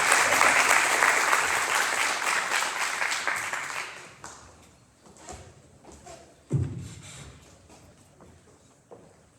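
Audience clapping at a food bank forum as a speaker leaves the stage: loud, dense applause for about four seconds that fades quickly into scattered claps, a couple of thuds and quiet room noise.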